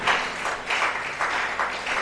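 A church congregation claps in short bursts, roughly four rounds of bright, moderately loud applause separated by brief lulls, with no speech over it.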